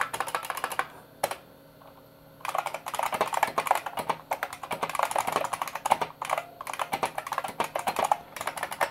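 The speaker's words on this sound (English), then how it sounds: "I need to type a document." Steady, rapid clatter of keys on an old computer keyboard from around 1989, close and crisp, with one brief pause early on before the fast typing resumes and continues to the end.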